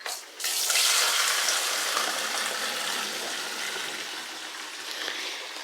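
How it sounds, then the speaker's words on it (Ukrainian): Water running steadily from a tap, poured in to fill a sofa-cleaning machine, a continuous close splashing rush that starts abruptly and holds for several seconds. "Так, наливаем водички."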